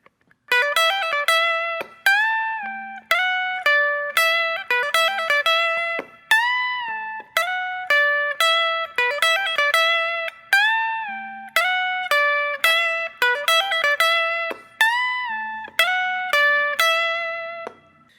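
A guitar plays the repeating riff of a song, a bright, evenly paced run of picked notes and short phrases with brief gaps, clear and close, with no voices.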